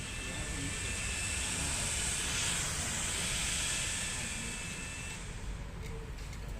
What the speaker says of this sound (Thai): ไฟในเตาเราจะขึ้นตามนี้ครับ ฟังเสียงนะครับ